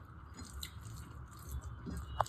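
Someone chews tangra fish during a home-cooked meal, soft close bites and wet mastication sounds with a sharp crunch near the end, quiet and without talk.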